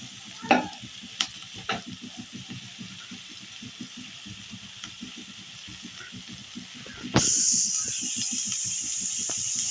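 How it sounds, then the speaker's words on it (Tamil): Onions sautéed and stirred in a pan for a spicy crab curry give a few sharp spatula scrapes over a soft sizzle, then a sudden loud hissing burst of steam near the end, with no talking. "வெங்காயத்தை நல்லா வதக்கிக்கிடுவோம்."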